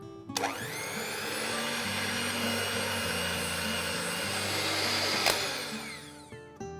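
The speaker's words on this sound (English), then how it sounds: "So I'm going to use my electrical whisk." Electric hand whisk creaming salted butter and sugar for eggless cookies, a loud steady high whine that starts suddenly, runs evenly for several seconds, then cuts off, with a brief knock at the end.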